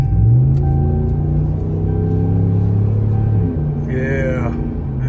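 A 2019-24 Ram 1500 with the 5.7 V8 and an MBRP high flow muffler rumbles steadily with a deep, loud exhaust drone, easing off near the end as a voice briefly cuts in.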